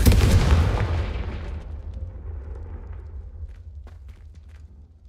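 A Confringo spell blast in Hogwarts Legacy, a loud booming explosion that rumbles and slowly decays over several seconds, with faint scattered clicks and small impacts in the tail.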